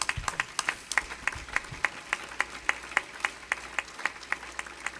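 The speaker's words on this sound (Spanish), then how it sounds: "Denle un aplauso al Señor." A church congregation claps in unison at a sermon, slow even rhythmic claps repeating about three times a second, moderately distant, with no talking.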